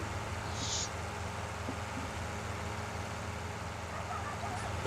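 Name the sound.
loud tractor engine in Farming Simulator 19 video game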